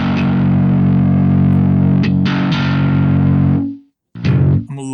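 Electric guitar played through an amp modeler with the C45 brightness switch engaged, sustained distorted chords ringing loud with a couple of restrikes, cutting out briefly before a final strum.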